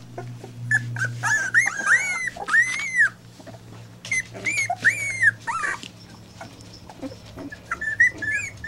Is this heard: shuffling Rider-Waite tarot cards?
no